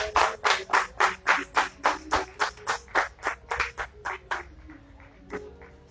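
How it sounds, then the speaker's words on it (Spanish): Audience clapping to welcome a speaker at a book presentation: a dozen or so loud, evenly spaced claps in unison, rhythmic and close, tapering softer toward the end. "Les pedimos un fuerte, fraterno y caloroso aplauso de bienvenida para la compañera."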